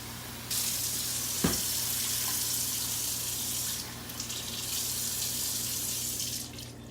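Water pours steadily into a skillet with a hissing, splashing rush, then tapers off near the end.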